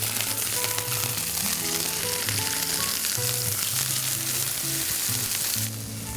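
Fresh tomatoes sizzle and fry in a pan as they are stirred, a constant bright hiss that runs under loud melodic music throughout.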